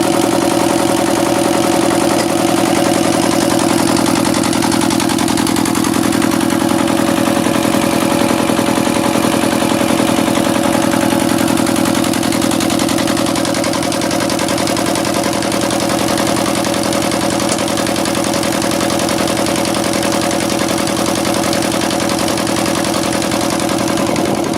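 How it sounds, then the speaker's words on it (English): A single-cylinder heavy oil engine on a wheeled mobile base idles loudly and steadily at close range, a constant low throbbing hum with no pauses or talk. "Single cylinder, robust, and mounted on a mobile base with wheels, it was widely used in rural areas and small industries to power pumps and generators."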